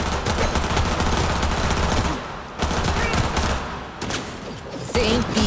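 Dense gunfire in the video game Cyberpunk 2077, with sustained automatic bursts roaring loud and close for several seconds. The firing breaks off briefly twice, then resumes.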